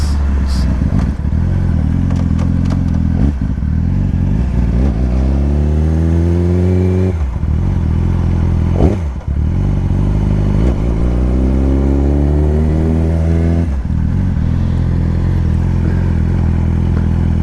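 A 2014 Yamaha R6 sport motorcycle on a test ride, its engine loud and close as it revs hard through repeated rising accelerations with gear changes between them, wind rushing underneath.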